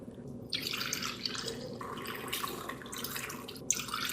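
Chicken bone broth poured from a larger container into small mason jars, a steady watery trickle and splashing that runs throughout, with brief breaks and a small clink near the end, no voices.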